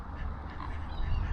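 Ducks quack briefly on a canal in Lowestoft, a short faint burst of calls under outdoor background noise.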